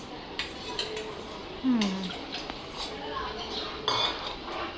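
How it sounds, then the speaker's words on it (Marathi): Dishes and pots clink and clatter in a sink, with scattered metallic knocks and a brief scraping slide, close by and moderately loud. "ही सगळी भांडी आहेत ना आता ती धुवून घ्यायची"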